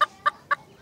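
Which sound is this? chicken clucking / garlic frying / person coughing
chicken clucking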